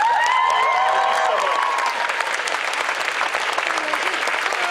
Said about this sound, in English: Could I get a big round of applause for our judges?